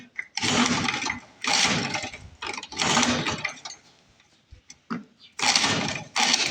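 An old Lawn-Boy Mag 21 push mower, left unused for fifteen years, is pull-started over and over: loud rasping bursts of about a second each, separated by short pauses, as the engine turns over without catching.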